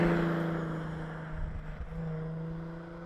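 Cabin road noise inside a Jaguar F-Type convertible while driving, a steady low rumble with faint tonal hum and wind wash, fairly quiet and even throughout.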